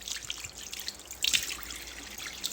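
Water from a sink tap runs and splashes while someone washes their face in the morning, giving faint steady trickling with scattered close drips and splashes and no talking.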